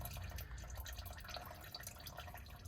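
Motor oil drains steadily from a 2004 Dodge Dakota into a catch pan, making a faint, continuous trickling and dripping liquid sound heard up close without voices.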